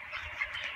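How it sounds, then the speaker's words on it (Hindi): Chickens on a poultry farm give faint, brief clucking from a short distance, alone without talk. "ये देखो कितनी सारी मुर्गियाँ हैं।"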